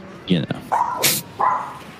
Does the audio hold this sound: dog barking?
yes